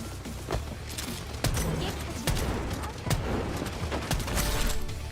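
Rapid video game gunfire rattles in close, steady bursts throughout a competitive team shooter match, loud and continuous with sharp individual shots standing out.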